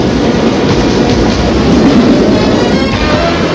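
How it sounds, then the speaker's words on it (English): A loud, continuous rumble of a train rolling along the rails, steady and close, with a faint rhythmic clatter. "The train!"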